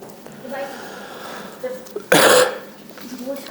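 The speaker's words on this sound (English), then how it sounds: "Had to clear my throat after that." A preacher finishing a sermon gives one sharp, loud cough that turns into throat clearing midway, surrounded by quieter throaty rasps and breathy sounds close to the microphone.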